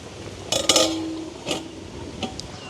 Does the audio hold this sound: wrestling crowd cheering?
no